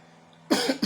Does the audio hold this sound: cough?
yes